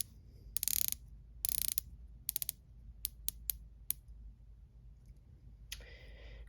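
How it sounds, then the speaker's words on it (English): A rotating watch bezel ratchets in crisp, close clicks, first in quick rapid runs, then in single spaced clicks, faint and alone against quiet background. "from what I've heard, they've improved their bezel action"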